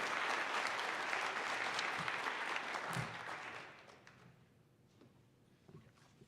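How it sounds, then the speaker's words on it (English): Audience applause for new faculty and staff at a college convocation and campus blessing fills a large room, steady and dense for about three seconds, then thins and fades into scattered claps and quiet room noise. "Let's give all of our new faculty, staff, and everybody a round of applause."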